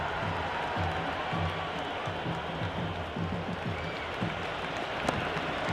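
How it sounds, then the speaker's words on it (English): A stadium crowd in a Cricket 26 video game T20 match between Pakistan and Australia cheers and claps steadily after a big shot, a sustained roar with a faint rhythmic chant running underneath. "The crowd is electric right now."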